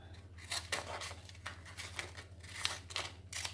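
Scissors snip repeatedly around an adhesive glitter vinyl decal on transfer tape, a series of crisp, close cuts over a low steady hum.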